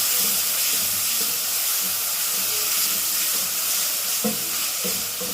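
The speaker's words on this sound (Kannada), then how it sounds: "ಬಾಡಿಸ್ತಾ ಇದ್ದೀವಿ ಚೆನ್ನಾಗಿ ಬಾಡಬೇಕು ಇದು" Tomatoes and green chillies sizzle and fry steadily in a pan, a constant loud hiss with occasional stirring clinks and scrapes near the end, no talking over it.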